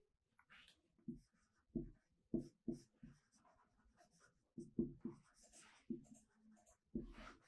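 Close chalk or marker strokes writing a math formula on a board during a lecture on Markov chains, a run of short scratchy taps and squeaks in irregular rhythm, clear and alone with no talk.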